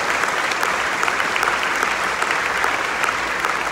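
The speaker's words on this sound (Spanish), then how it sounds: "Ese aplauso grande al Señor" A church congregation gives a big round of applause for the Lord. Dense, steady clapping fills the room at full strength the whole time, with faint voices mixed in.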